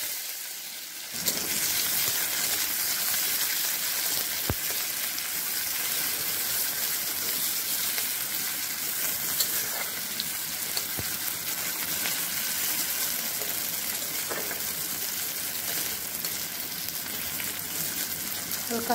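Finely chopped onion and garlic, more onion than garlic, frying in hot oil make a steady, close hiss of sizzling that starts abruptly after a brief silence and continues evenly, with a few faint clinks.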